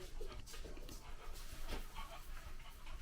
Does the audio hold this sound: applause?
no